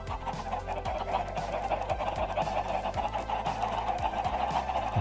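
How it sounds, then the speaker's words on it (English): Chickens cluck in Minecraft: repeated short clucks and low fowl calls recur in an uneven rhythm over a busy game background of steady noise, moderately loud, with no talking. "chickens"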